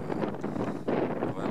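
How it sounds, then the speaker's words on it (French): Strong wind on Cadillac Mountain in Maine buffets the microphone as a steady, loud roar, with a brief dip partway through before the gusting returns at full strength. "Il y a vraiment beaucoup de vent"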